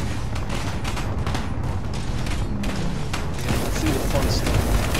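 Turret gunfire in the space combat game Space Engineers, rapid mechanical bursts and clattering shots rattling steadily at moderate loudness, mixed with rumbling impacts and growing slightly denser toward the end.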